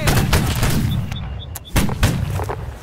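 Gunshots fired at close range during basic training, several sharp loud reports spaced a second or so apart with brief quiet gaps between them.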